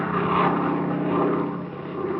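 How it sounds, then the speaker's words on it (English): Steady droning hum of a private plane in flight, a continuous engine and propeller rumble that stays even and fairly loud throughout. "by 5:30 I was riding with Fred Kane in Mr. Harvey's private plane, headed for sunny California"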